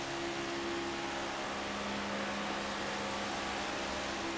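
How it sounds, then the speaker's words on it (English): Race car engines in a Carolina Cup Series event at Atlanta drone at full throttle, a dense, steady roar with sustained tonal whine that holds evenly without lifting, loud and continuous with no talk. "You can hear that thing. He is not lifting the throttle on that thing at all."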